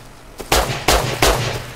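Three loud, close gunshots fired at a boar in the survival game Rust, sharp evenly spaced cracks after a quiet lead-in.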